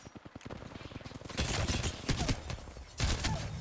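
Full-auto gunfire from a cheater in Apex Legends rattles off in a rapid string of shots, followed by heavier overlapping bursts of fire, somewhat distant and moderate in level.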